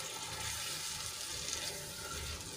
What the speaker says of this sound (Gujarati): અહીંયા હું બીજું 1 ગ્લાસ જેટલું પાણી એડ કરું છું